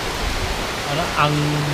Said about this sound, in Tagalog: At yun, lumakas yung ulan.